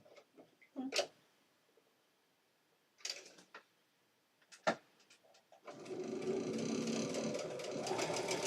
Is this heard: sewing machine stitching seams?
yes